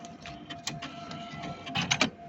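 An FNB ATM draws deposited banknotes into its cash chamber, giving a brief whirring, clicking mechanical run with a few louder clunks near the end, close by and with no voices.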